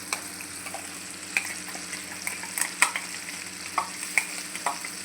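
Ground paste goes into peas frying in oil for methi matar malai, giving a steady sizzle broken by scattered clicks and scrapes of a stirring spoon against the pan, with no voices.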